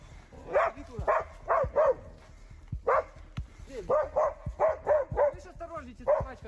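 A hunting dog barks repeatedly in the woods during a bear hunt, sharp barks in quick bursts separated by short pauses, fairly close, with people talking underneath.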